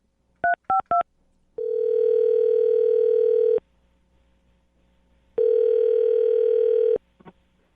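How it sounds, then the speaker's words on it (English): Three short touch-tone beeps of a phone being dialed, then two long steady ringback tones separated by a pause, clear and close. "So we'll dial the phone number right now"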